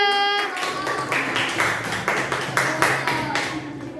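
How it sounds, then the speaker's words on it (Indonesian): Students in a classroom clap for a presenting group, a brisk round of claps with a rhythmic, patterned pulse. The clapping follows a brief voice at the start and carries some chatter underneath. "beri tepuk tangan untuk kelompok 2"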